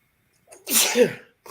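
A single loud, close sneeze with a short intake of breath before it, then quiet.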